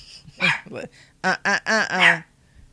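A dog in the video game Palia gives a short run of yipping barks, close and fairly loud, with a brief whimpering tone among the clipped bursts.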